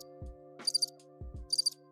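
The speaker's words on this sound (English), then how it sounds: "Crickets." A crickets chirping sound effect plays two paired bursts of high, rapid trills, each preceded by low thuds, against a faint steady hum.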